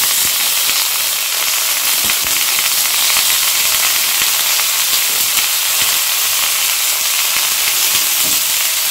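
Carrot, beetroot and peas frying in a kadai pan for a masala dosa vegetable filling give off a loud, steady sizzle and hiss that runs without a break.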